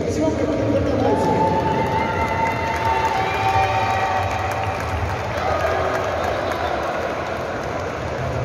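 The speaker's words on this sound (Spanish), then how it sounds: "Recibamos que fuerte el aplauso" Crowd at an amateur boxing event reacting as a fighter is introduced, a loud continuous roar of cheering and clapping with an announcer's voice mixed in.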